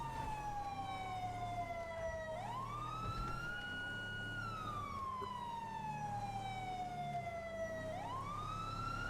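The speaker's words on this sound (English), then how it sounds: "We'll see if that siren strikes fear into the hearts of men." A police car siren in the GTA V video game wails in long, slow rising and falling sweeps, loud and continuous over a low engine and road rumble, with no talk.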